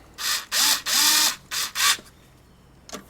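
A hand ratchet tightens the lug nuts on a RZR 570 wheel in several loud, close bursts of rapid clicking, then a pause and one last short burst.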